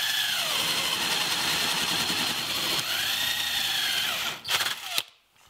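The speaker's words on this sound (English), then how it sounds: "drill a 1-inch hole" A power drill boring a 1-inch hole through a wooden follower board for a top bar beehive: a loud, steady whirring grind with rising and falling pitch, then a few sharp clunks as the bit breaks through and the motor winds down.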